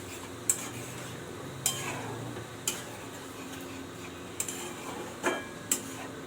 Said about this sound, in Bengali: জল দিয়ে এটাকে একটু নাড়াচাড়া করতে হবে।